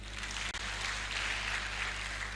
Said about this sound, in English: Just give your hand clap